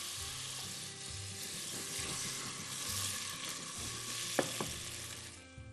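Chopped onion hits hot oil with a splash of water in a kitchen pan and hisses in a dense, even sizzle under a low hum, with a couple of small clicks near the end.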